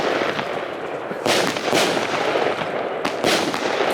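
A 56-shot, 20-caliber fireworks cake fires outdoors, giving sharp bursts and crackling reports at close range in two distinct waves over a busy background.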